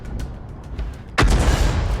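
A single heavy artillery blast in a tank video game booms in suddenly after low background rumble, loud and close, its roar sustaining and echoing for the rest of the clip.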